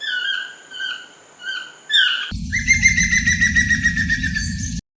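Bird song in a Costa Rican jungle: repeated high whistled phrases, then a second species joins with fast rapid chirping trills over a dense low buzz of insects or background, loud and close, ending abruptly.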